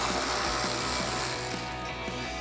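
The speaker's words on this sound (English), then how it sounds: "Just grab a 10mm socket, remove this bolt, and do the same thing on the other side." A ratchet on a 10mm socket backs out a fender-to-bumper bolt on a Dodge Charger, its pawl giving quick regular clicks in a steady rhythm, close and alone over a constant low hum.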